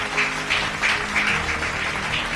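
A church congregation applauds and cheers for Jesus during a French-language sermon, a steady wash of clapping with rhythmic swells that fills the room for a couple of seconds, with no speech over it.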